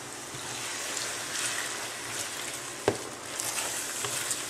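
Sherry cooks in a pan with onions, flour and butter, giving a soft, steady sizzle and bubbling, close and fairly quiet, with one brief sharp tap partway through.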